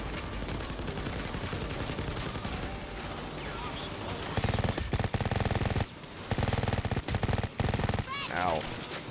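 Rapid machine gun fire from a turret in the video game Payday 2, loud dense bursts running continuously with a few short breaks, voices talking over the shooting.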